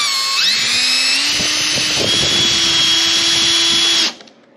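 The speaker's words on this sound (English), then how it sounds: "And we're now going to use the self-tapping one. It'll just drill its way down in there." A power drill at low torque setting whines steadily at high speed for about four seconds, driving a self-tapping screw with slight grinding, then spins down and stops.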